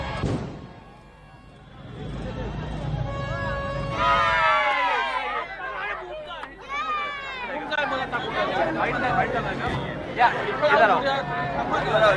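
A crowd of fans in Nagpur celebrating India's Champions Trophy win over Pakistan: a dense mix of shouting, whooping and excited chatter with many voices overlapping. The cheering swells and keeps going throughout.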